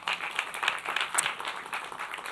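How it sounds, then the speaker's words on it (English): An audience claps to welcome a speaker at a live-streamed event, with moderately loud, uneven applause whose individual claps are audible, rising and easing across a couple of seconds. "welcome Simone with a round of applause."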